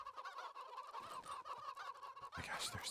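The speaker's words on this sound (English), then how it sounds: "Oh my gosh, there's so many chickens." Minecraft chickens cluck in a busy flock, their short clucks and squawks repeating steadily and fairly close, growing louder and denser toward the end, with no talk over them.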